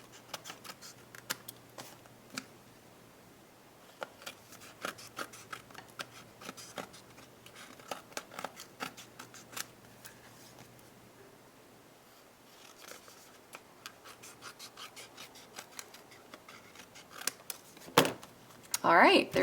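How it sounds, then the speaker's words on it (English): Scissors trim excess paper from the edges of a handmade stamped sunburst card, giving faint, crisp snips scattered irregularly over a quiet room, with louder cutting and handling near the end. "we're just going to trim off all the excess pieces"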